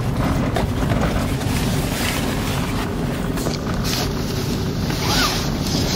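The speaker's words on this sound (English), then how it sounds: "I love this wind." Strong wind blowing hard during a blizzard, heard from inside a car with a steady, loud broadband roar and buffeting that lasts throughout with no talking.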